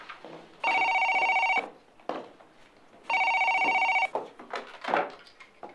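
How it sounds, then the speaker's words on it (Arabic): A telephone in a home rings in two long, loud electronic bursts separated by a pause, with quieter household sounds and brief voices between the rings. "شوفي التليفون الله يرضى عليكي"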